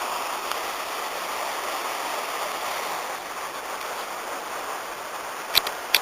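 Steady rushing water of a big river at Betws-y-Coed, Wales, a broad continuous roar close by, with a couple of faint clicks near the end.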